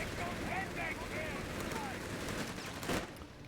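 Infantry small-arms fire in Company of Heroes 3, a steady dense crackle of rifle and machine-gun shots under a voice, with a louder burst near the end.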